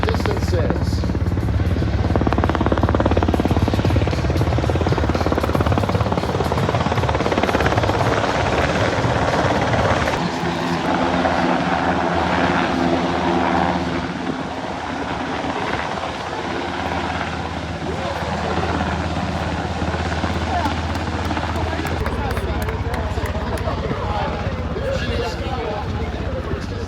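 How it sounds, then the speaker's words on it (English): A CH-148 military helicopter hovers at the Boundary Bay Airshow, its rotor thump and turbine whine holding steady and loud throughout, with talk over it. "Slowly being hoisted back into the helicopter. CH-148."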